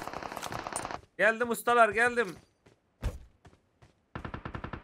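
UMP submachine gun fire in the PUBG Mobile video game: fast, rattling automatic bursts open and close the moment, with someone speaking loudly in between and a brief thump midway.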